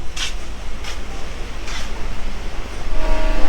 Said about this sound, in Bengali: ট্রেনটা হুইসেল দিচ্ছে ছাড়বে এখনই